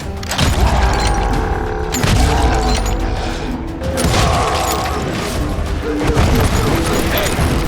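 Western shootout in Call of Juarez: Gunslinger, with dense, loud gunfire and heavy booming blasts that keep going without a break, mixed with crashes and impacts and occasional shouted voices.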